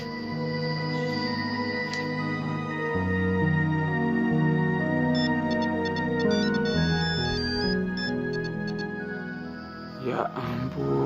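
A mobile phone ringtone plays a sustained electronic melody, steady and moderately loud for several seconds before a brief rustle near the end, with no talk over it.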